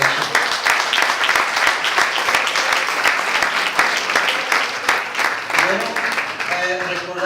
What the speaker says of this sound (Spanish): Denle un aplauso al que está a tu izquierda,